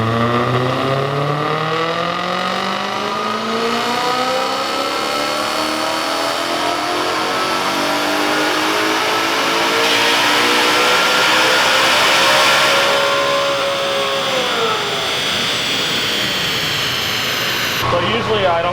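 A BMW E90 M3 V8 revs hard on a chassis dyno, its loud engine note rising steadily through the gears in one long sustained pull with sweeping harmonics, then dropping off sharply near the end; a voice speaks briefly.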